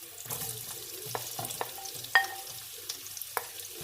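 Rice stir-fried in a pan with shallots and carrots, a soft sizzle under repeated scraping and tossing strokes from a utensil, with one brief sharper clink midway.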